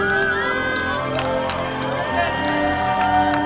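A crowd of young people cheering and whooping loudly in a greeting, with excited shouts and chatter layered together in a continuous burst.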